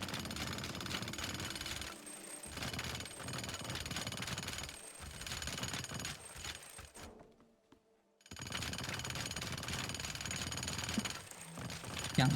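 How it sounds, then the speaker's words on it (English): Jackhammer pounding through a building in the demolition game Teardown, a loud continuous rapid hammering that runs for seconds, stops briefly, then resumes, with no talking. "Actually, I've got a jackhammer."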